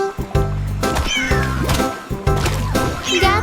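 Cat meows ring out within a Portuguese children's nursery song about fishing cats splashing water at fish, repeated mewing calls layered over sung melody and bright musical accompaniment.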